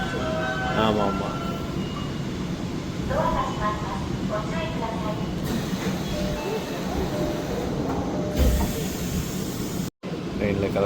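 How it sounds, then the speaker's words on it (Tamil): A Japanese commuter train heading toward Shinjuku hums and rumbles steadily from inside the carriage, with chimes and an onboard announcement, while people chat nearby. "ட்ரெயினில் கிளம்பியாச்சு. ஷிஞ்சுகுல தான் இறங்கணும் அடுத்து."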